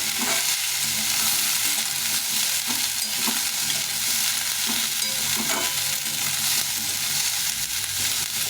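Onion stalks fry and sizzle in a pan with steady stirring, a continuous close hiss broken by occasional scraping knocks, no voices.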